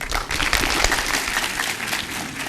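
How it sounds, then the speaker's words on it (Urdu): Dense audience applause at a talk on youth and new provinces, loud and sustained clapping from a full room for a couple of seconds. "میں نے بھی تالی بجائی ہے، یہ جو سب نے بجائی"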